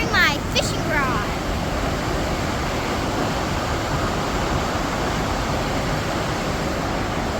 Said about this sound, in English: It's a pretty big waterfall, huh?